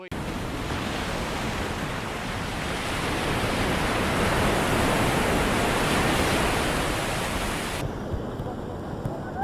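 Ocean waves washing onto a Maldives shoreline at night make a continuous, dense roar of surf, steady and full throughout before thinning slightly near the end, with no voices.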